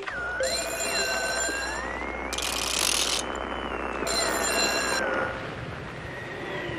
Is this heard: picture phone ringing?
yes